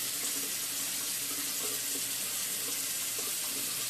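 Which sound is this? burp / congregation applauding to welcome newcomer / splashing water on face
splashing water on face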